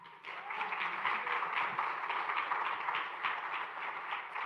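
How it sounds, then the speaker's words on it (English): A room of listeners applauds State Attorney Dave Aronberg of Palm Beach County, a steady wash of many hands clapping at moderate volume, continuous and unbroken from start to finish. "let's give him a round of applause"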